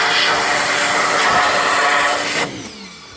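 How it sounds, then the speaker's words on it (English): A small power washer blasts a chrome exhaust tip with a loud, steady hissing roar close by, then cuts off abruptly near the end, leaving quieter background noise. "Hit it with the little power washer thingy."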